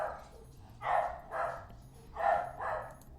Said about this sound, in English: there's Puppy going crazy because the next door neighbor dog's going crazy